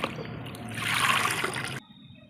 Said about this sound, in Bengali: আমি ডাঁটা কুমড়োগুলো ধুয়ে নিচ্ছি